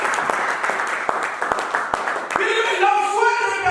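Church congregation breaks into applause in acclaim, a few sharp claps at first, then swelling into fuller clapping mixed with cheering voices and a speaker talking.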